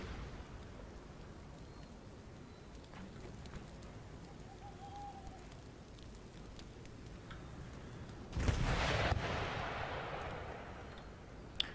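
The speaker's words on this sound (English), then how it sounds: "they're absolutely giving us a hiding here with this artillery. Accurate artillery fire." Artillery fire in the strategy game Empire: Total War, a single heavy blast that rolls and fades away late on, after a long stretch of quiet ambience with faint birdlike calls.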